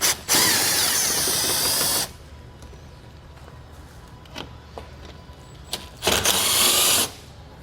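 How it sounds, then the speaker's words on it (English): A power tool with a T30 torx socket spins out fasteners on a 2019 Mini Cooper during a base plate install, two loud whirring bursts separated by a quieter stretch of small clicks and handling noises. "we're going to remove these using our T30 torque socket"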